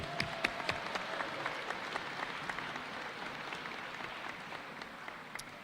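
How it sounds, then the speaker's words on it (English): Applause from the audience at a school awards assembly, a steady wash of clapping with sharp individual claps standing out, fairly close and sustained before easing slightly toward the end. "So if we give her a round of applause,"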